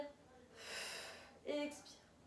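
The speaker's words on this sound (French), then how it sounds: "Inspirez en haut et expirez en bas." Someone breathes in and out during a Pilates exercise: a soft, drawn-out breath followed by a shorter, slightly voiced exhale, faint and close.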